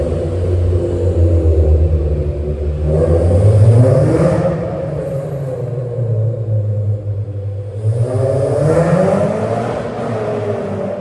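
Modified Honda engine revving inside a parking garage, a loud low rumble that swells in two strong rev surges with rising pitch, echoing off concrete, with no talk over it.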